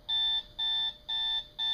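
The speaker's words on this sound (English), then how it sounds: "That's the alarm clock." Electronic alarm clock beeping indoors, four steady, evenly spaced tones of about a third of a second each, clear and fairly loud, with no talking over them.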